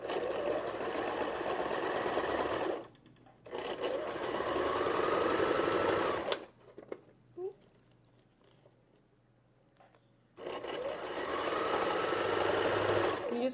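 A sewing machine stitching a cloth diaper runs in three steady whirring bursts separated by pauses, with quiet clicks and handling noises in the longer gap.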